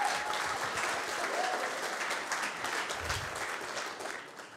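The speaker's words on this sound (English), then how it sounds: "Big round of applause." Sustained, dense applause from a startup demo day audience fills the room, a steady wash of many hands clapping at even loudness with no break.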